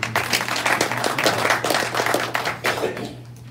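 Audience applause breaks out at a community meeting, a dense, moderately loud clatter of many hands that holds steady for a few seconds, then thins and fades, with a low hum running underneath.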